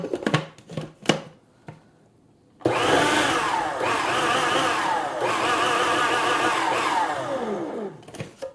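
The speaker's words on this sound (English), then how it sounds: "we're going to start to pulse this butter in just a little bit" A food processor pulses room-temperature butter into shortcake dough. A few sharp knocks come first, then a loud steady whirring motor runs for several seconds and winds down at the end.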